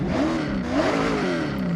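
A loud, steady car engine rev in Forza Horizon 6 from the game's super engine option, its pitch rising and falling slightly in one continuous droning pull.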